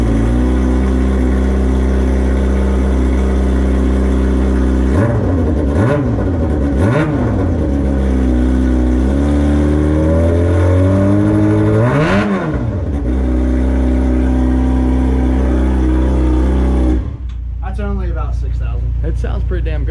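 A McLaren 720S engine holds a loud, close idle and then is revved hard several times, climbing in pitch toward the redline and dropping back, before settling lower again.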